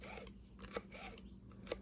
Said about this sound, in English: I'm just going to cut them like I did the jalapenos,